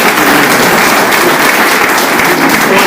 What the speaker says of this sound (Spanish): le podemos dar un aplauso a Manolo.